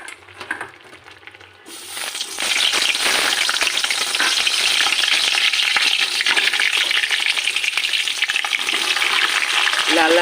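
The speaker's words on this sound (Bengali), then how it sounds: "এই তেলেই আলুগুলো ভেজে তুলে নেবো আগে।" Potatoes drop into hot oil for a chicken roast, and a loud, dense crackling sizzle bursts up after a quiet start and holds steady to the end.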